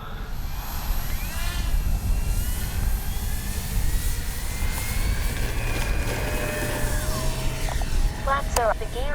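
An Avios Super Tucano RC model airplane takes off with flaps set, its motor a continuous whining drone that swells and shifts in pitch as it climbs, while someone talks over it throughout.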